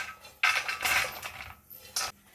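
Roasted dry fruits tip from a pan into a large metal pot for making laddu, giving three short bursts of rattling, clinking pieces that pour and scrape against the metal, close and fairly loud, with quiet gaps between.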